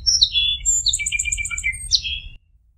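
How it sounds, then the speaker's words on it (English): A bright, clear songbird song of varied whistled notes and quick trills, a sparrow singing alone against a low background rumble. "What does a Song Sparrow sound like?"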